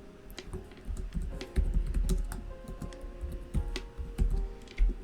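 Steady typing on a computer keyboard while entering business card details, with quick irregular key clicks and occasional heavier thumps, close and clear with no talking.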